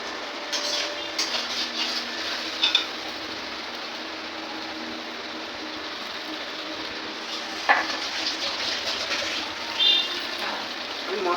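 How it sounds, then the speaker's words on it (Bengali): Spice paste for chicken curry being fried and stirred in a pan, with a steady soft sizzle throughout and a few brief clanks of the utensil against the pot. "আর এখন মশলা কষানো হচ্ছে তারপরে রান্না হবে"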